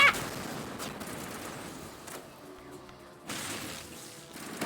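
Gunfire rattles during a firefight in the video game Mass Effect. Scattered bursts of shots sound fairly faint, with short quiet gaps between volleys.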